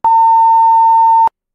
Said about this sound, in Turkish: Bildiğimiz bipleme oldu.